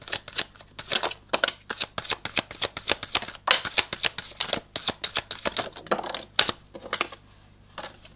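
Tarot cards shuffled by hand ahead of a six-card draw: a close, steady run of crisp riffling bursts repeating in quick succession, then tapering off near the end.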